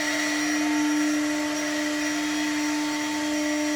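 A CNC machine spindle spins at high speed, giving a steady loud whine with a strong sustained tone and no change in pitch throughout.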